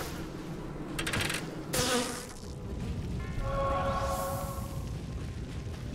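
Droning buzz of bees in the Diablo 2 video game's Maggot Lair dungeon, continuous over several seconds with a few swells and bursts of combat noise, no voices.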